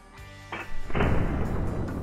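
In the hunting video game Call of the Wild, a 22-250 rifle fires once at a coyote, giving a single heavy boom with a rumbling tail.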